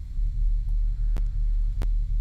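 Sub bass sample from a Splice sample pack: a deep, steady low hum sustained throughout, with two brief clicks partway through and no voices.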